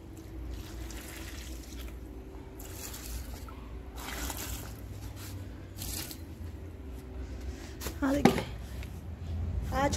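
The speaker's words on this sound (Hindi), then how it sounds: "चलो पानी दे दें आप इन्हों।" Water trickles and splashes into potted plants in sporadic bursts over a steady low hum, with someone talking throughout.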